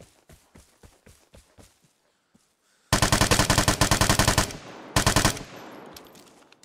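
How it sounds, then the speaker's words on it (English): Vigor gameplay: a few scattered single shots and footsteps, then a loud close burst of rapid automatic gunfire, a short pause and a second burst fading out. "And then he just starts shooting."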